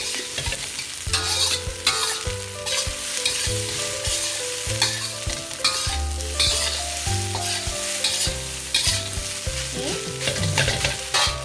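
Caramelized onion stir-fried on high heat for hibachi fried rice, a steady loud sizzle with the scrape and clatter of a spatula mixing continuously.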